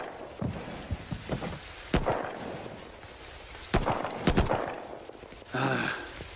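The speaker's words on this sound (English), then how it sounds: "just want to get out of this fucking rain" Steady rain hisses throughout a scene in The Division video game, broken by sharp impacts and bursts of gunfire, with a muffled voice near the end.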